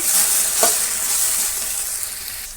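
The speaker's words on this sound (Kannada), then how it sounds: "ನೋಡಿ ಎಣ್ಣೆಯಲ್ಲಿ ಚೆನ್ನಾಗಿ ಫ್ರೈ ತನಕ ಫ್ರೈ ಮಾಡ್ಕೊಳ್ಳೋಣ ಈ ಬೆಂಡೆಕಾಯಿ ಲೋಳೆ ಎಲ್ಲ ಹೀರ್ಕೊಂಡ್ಬಿಡ್ಬೇಕು" Okra, or ladies finger, fries in oil in a pan, giving a loud, continuous bright sizzle with light stirring throughout.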